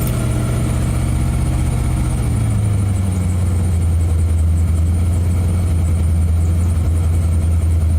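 A 1987 Corvette engine runs at a steady idle nearby, a constant low hum whose pitch drops slightly a few seconds in, with no talking.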